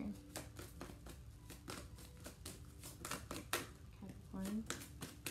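Tarot cards being shuffled, a run of quick papery riffles and slaps repeating steadily up close, with a voice speaking over part of it.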